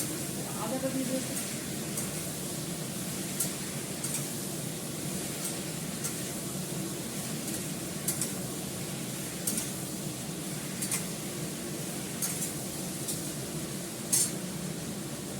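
Ginger fries in a pan with a soft continuous sizzle, close and fairly quiet, broken now and then by light clinks of a utensil against the pan, with a voice talking over it.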